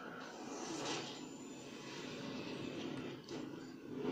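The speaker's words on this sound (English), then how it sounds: "I mean actual flying with a plane." A plane flies in the Fortnite video game, a continuous low engine drone with a smooth whooshing hum that swells and dips slightly, steady and fairly quiet.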